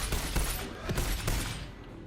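Gunfire in the video game Tiny Tina's Wonderlands: a few sharp, broadband shots land close together over a steady, busy game backdrop, fairly loud and without talk.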